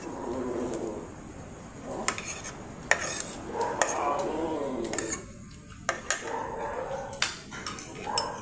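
Kopi, a 14-year-old dog, gives several short, scattered barks amid clinking cutlery and dishes in a home kitchen, with faint talking in the background.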